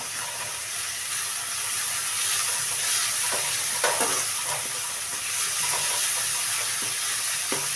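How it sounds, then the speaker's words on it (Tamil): Tomato being mashed and fried in a pan for Sri Lankan sambal: a constant loud hissing sizzle with occasional soft scraping and pressing knocks from the spoon, no talking. "நல்லா மசிச்சு விட்டுக்கோங்க தம்பி தக்காளியை"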